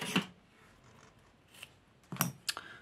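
Scissors snip through ribbon for a scrapbooking craft project, a few quiet, separate cuts with soft rustling between them, heard close up and without speech.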